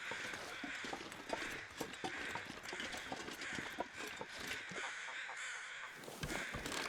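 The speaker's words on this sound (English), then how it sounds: "I can still hear ptarmigan somewhere." Ptarmigan squawk with harsh, rasping calls in The Long Dark's snowy wilderness, alongside crunchy footsteps and a steady wind-like hiss.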